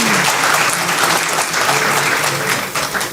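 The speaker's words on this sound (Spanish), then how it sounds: "Un fuerte aplauso, bienvenido, Rodrigo." Loud, sustained applause from a conference audience welcoming panelists at an urban sustainability forum, a thick, even wash of clapping hands that carries on without a break throughout.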